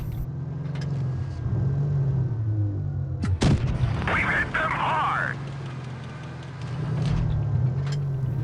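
A tank cannon fires once in the World of Tanks Blitz video game, a single sharp blast midway over a steady engine rumble, with someone narrating throughout.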